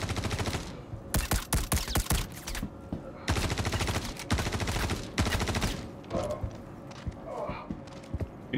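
Bursts of rapid gunfire from guns in the video game Star Citizen, sharp volleys of shots in several clusters with brief pauses between them, loud and close.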